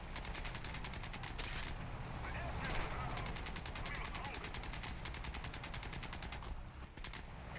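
Rapid machine-gun fire from warplanes in the War Thunder video game rattles on continuously in dense, even bursts at moderate loudness, with a player talking over the gunfire.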